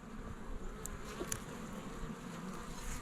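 Honeybees buzz around an open Layens or Long Langstroth hive during an inspection, a soft, steady hum with a few louder passes close by and no talking.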